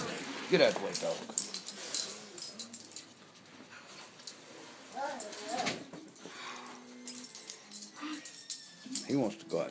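A dog whimpers and whines to go outside into snow, with jangling keys and door handling nearby while people talk throughout.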